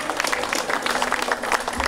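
A hall audience applauds to welcome a speaker to the stage, with dense steady clapping from many hands that runs throughout, loud and full.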